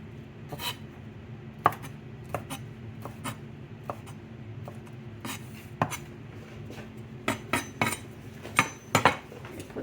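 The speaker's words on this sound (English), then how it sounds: "you want to cut these up in little chunks, small pieces" Knife chopping food into small chunks on a dish, a stream of sharp irregular taps and clinks with short gaps between cuts, close and clear with no talk.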